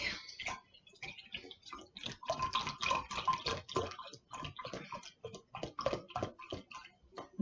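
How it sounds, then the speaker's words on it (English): Beef broth poured into a measuring cup in a kitchen, a faint, uneven trickling and splashing with small clicks and knocks. "Next, we need 2 cups of beef broth."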